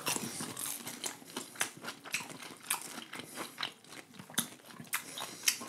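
Close-up bites and chewing of smoked sausage, a run of moist crunchy, irregular chomps and mouth sounds, quiet but near, with no talking.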